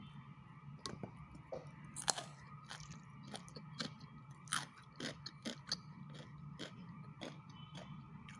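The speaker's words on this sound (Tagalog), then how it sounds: "Malutong pa rin po yung ating gulay. So, hindi po siya overcook." Close, crisp crunching as crunchy cooked vegetables are bitten and chewed, with a steady series of sharp crackling bites over a quiet background.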